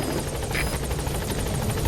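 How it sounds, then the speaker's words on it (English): Support helicopter in the Metal Gear Solid V video game, a steady dense rotor roar with fast rhythmic chopping that fills the whole clip at an even, fairly loud level, with no voices. "Support helicopter has arrived."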